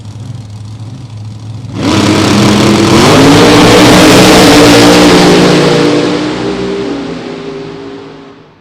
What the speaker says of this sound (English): Shane Lawson and his family purchased this championship winning Man of War Mustang. Let's see how they ride